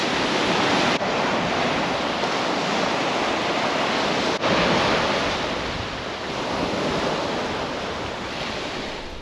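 Ocean waves wash steadily onto a beach on Haida Gwaii, a continuous full roar of surf with wind buffeting the microphone, loud and close throughout with no speech.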